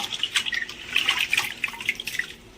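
Water splashing and dripping as soaked rice is rinsed clean by hand, a steady run of light wet trickles and drips close by, easing off near the end, with no voices.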